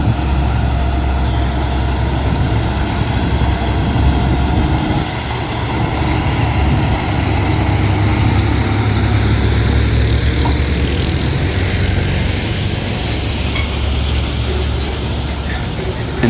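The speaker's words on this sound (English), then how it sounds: "The driver was speeding up and the car was rushing forward." A heavy truck hauls a 60-ton crane up an 8% slope on a steep mountain pass, its engine a loud, deep, continuous roar and labouring rumble close by, with no speech.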